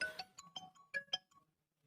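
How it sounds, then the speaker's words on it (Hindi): A phone rings during a maths class, a short run of bright electronic ringtone notes in a quick irregular melody that then fades to silence, faint and alone. "फोन तुम क्यों बज रहे हो"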